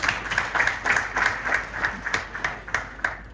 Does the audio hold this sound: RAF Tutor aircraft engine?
no